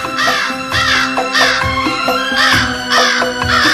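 Crows and kites calling around a tower, a busy chorus of loud, repeated harsh caws in quick succession, close by and continuous, with no speech.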